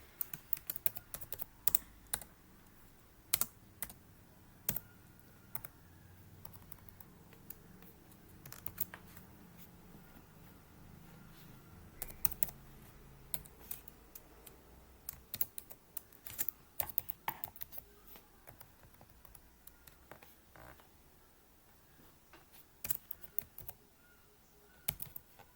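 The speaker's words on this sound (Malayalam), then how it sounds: "നിങ്ങൾക്ക് വേണ്ട പേരുകളൊക്കെ നിങ്ങൾ ടൈപ്പ് ചെയ്ത് കൊടുക്കുക" Names being typed into a spreadsheet on a computer keyboard: close, quiet, irregular key clicks come in bursts over about 25 seconds, with short pauses between words and no talking.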